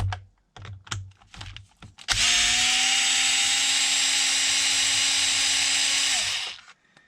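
A power driver runs steadily for about four seconds, driving screws into Traxxas XRT RC truck parts and then winding down, preceded by a few small clicks and handling knocks, close and loud.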